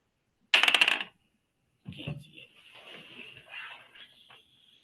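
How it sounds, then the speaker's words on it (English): Dice clatter in a short, bright burst near the start of a trivia game, then a softer rattle and shuffling follow, with faint high tone after. "So roll the dice"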